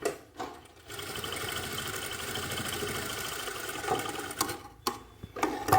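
A sewing machine stitches elastic into the back of a jacket, running in a steady, continuous mechanical whir for several seconds. The motor pauses briefly near the start and again near the end.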